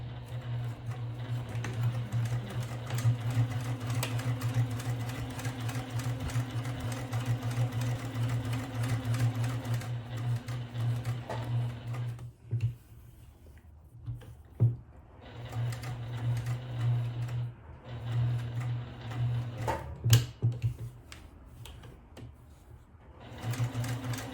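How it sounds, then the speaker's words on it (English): Sewing machine stitching a purse strap, a close, steady mechanical whir with rapid needle rhythm that runs continuously, then stops and restarts in short bursts with clicks between runs. "So let's go to the sewing machine. I'm going to start to sew the strap."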